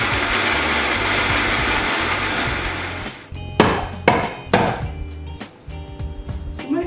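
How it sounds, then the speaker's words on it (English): A blender on its high frappe setting crushes ice with spice chai in a loud, steady grinding roar for about three seconds, then stops, followed by several sharp knocks and clatters. "Put on our blender for about 20 to 25 seconds on the frappe blend or whatever's high on your blender."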